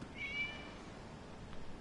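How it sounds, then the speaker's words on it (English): A cat in the video game Genshin Impact lets out a single soft meow, faint and brief over a quiet ambient backdrop. "It was just a cat."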